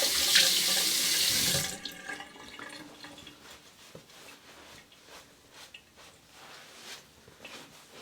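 Water gushes loudly from a tap for a rinse, then cuts off, leaving faint drips and small splashing sounds.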